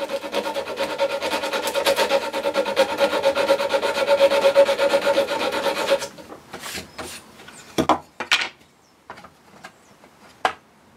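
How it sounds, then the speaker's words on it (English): Sandpaper wrapped around a popsicle stick rubs back and forth over wooden corners in a steady rasping stroke for about six seconds, then gives way to a few scattered light knocks and scrapes. "I wrap some sandpaper around it, and this makes for a handy improvised small file"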